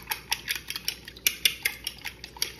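A utensil whisks beaten egg and cinnamon for French toast in a bowl, a quick run of rhythmic clinks and taps against the dish, close and distinct with no talk.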